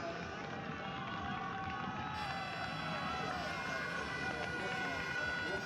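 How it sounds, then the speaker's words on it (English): Spectators at the 2025 Barcelona Marathon cheer along the course as the leader passes, a dense, steady roar that holds throughout, with a commentator talking over it. "The cheers, the crowd, you can hear it now, it is building."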